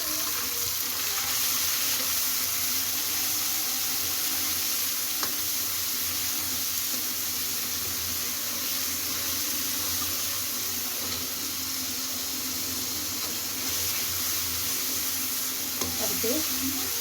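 Very finely chopped onions frying in hot oil with whole garam masala spices for a matar makhana paneer curry, a steady close sizzle that runs throughout, with occasional stirring scrapes and no talk.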